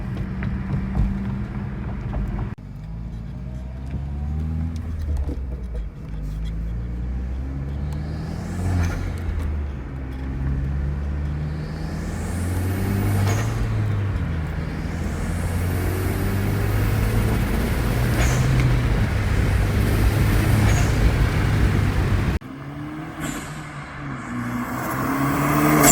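A Hyundai Genesis Coupe fitted with an HKS blow-off valve and K&N intake drives along a rough road, its engine rumbling and rising steadily in revs, with brief breathy bursts between gear changes and a sharp drop near the end.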